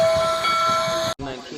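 A steam locomotive reverses along the track to cross over to another line, giving a steady, close rumble with a sustained whistle-like tone and hiss before a brief break and a quieter continuation.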